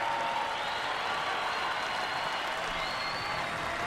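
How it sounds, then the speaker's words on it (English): An arena crowd at the 2016 Bassmaster Classic weigh-in cheers and applauds veterans, with loud, sustained clapping and whoops filling the space evenly for several seconds. "These guys right here deserve all the applause right here."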